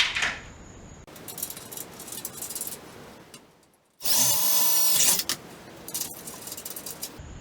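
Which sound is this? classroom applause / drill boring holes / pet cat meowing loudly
drill boring holes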